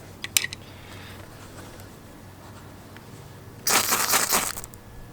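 A stealth artisan ferro rod fire starter is struck twice, first with a few sharp scrapes and then with a loud, bright burst of sparking rasps lasting nearly a second and a half.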